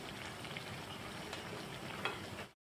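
Potato chops fry in hot oil with a steady, close crackling sizzle and small bubbling pops that continue evenly before cutting off abruptly at the end.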